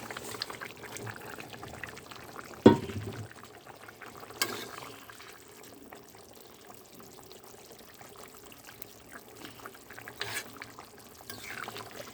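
Silver carp curry with pumpkin and potato simmers in a pot, giving a faint, steady low bubbling with one sharp clink early on and no voices.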